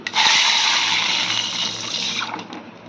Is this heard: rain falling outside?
no